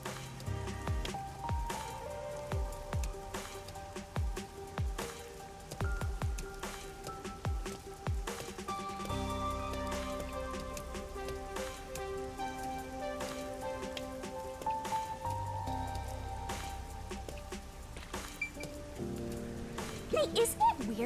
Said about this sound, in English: Hey, isn't it weird how it's not flooded, given how it's always raining here?